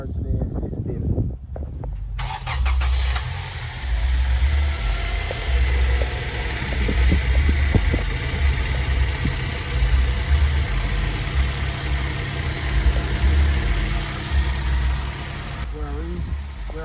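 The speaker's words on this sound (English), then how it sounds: "Now we're going to start the engine and recharge the system." A Toyota Tacoma pickup's engine turns over and settles into a steady, even idle, a continuous low rumble that runs close and fairly loud to the end, with faint voices now and then.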